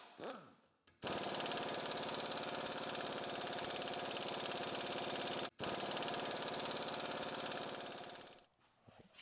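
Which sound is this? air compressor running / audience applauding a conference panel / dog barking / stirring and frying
air compressor running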